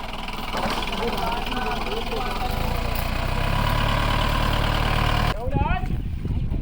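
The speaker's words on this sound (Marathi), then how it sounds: "हे बघ आमची गाडी आलेली आहे" A vehicle arriving in a Konkan village for Holi festivities runs with a steady, loud engine rumble that cuts off near the end, under people talking.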